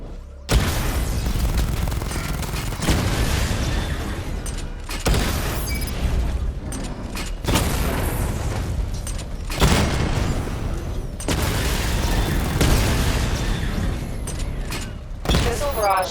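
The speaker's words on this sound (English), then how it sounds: "Charge the missile barrage to level 2 to destroy up to 4 targets at once" Missile barrage explosions from the Batmobile in Batman Arkham Knight, heard as a dense, loud stream of booms and blasts that breaks into several bursts with short gaps, over rumbling mechanical game noise.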